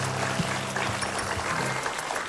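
Clapping from an audience greeting a close-up magic trick, dense and steady throughout with low music-like tones humming underneath.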